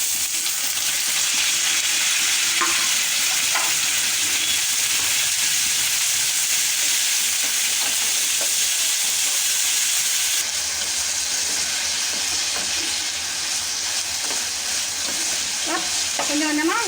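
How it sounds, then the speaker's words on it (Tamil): Washed broad beans stir-fry in a pan with a steady, close sizzle throughout, broken by scattered scrapes and clicks of a spoon stirring them. "கொஞ்சம் கொஞ்சமாக விட்டு கிண்டி விட்டுக்கலாம், கருகாமல்."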